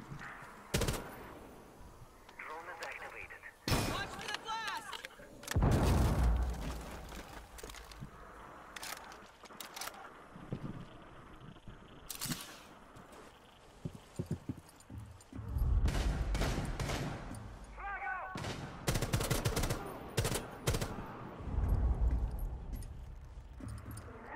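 Rainbow Six Siege gunfire erupts in separate bursts of sharp automatic shots, with quieter gaps between them filled by movement, clatter and faint background activity.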